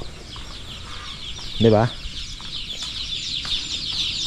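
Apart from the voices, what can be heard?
chickens clucking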